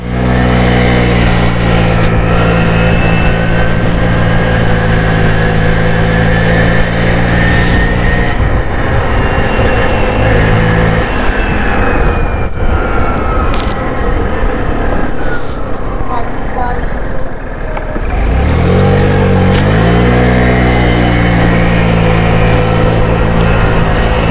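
A scooter engine runs loud and close, its pitch rising and falling as it revs and passes, dipping briefly before picking up again.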